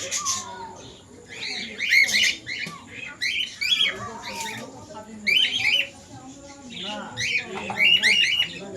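Lutino breeding-pair pet birds for sale give repeated sharp squawks and harsh calls in short bursts, loud and close, with quieter rustling between them.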